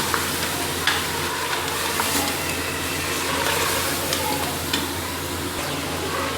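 Whole spices with kalonji, mustard seeds and ground coriander roasting in a hot pan for achar gosht, a steady close sizzle with soft stirring scrapes and light crackles throughout, no voices.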